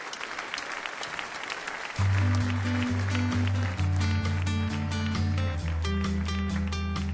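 Audience applause at a concert in Corsica, dense clapping that swells, then continues while sustained instrumental music begins underneath, fairly close and loud throughout.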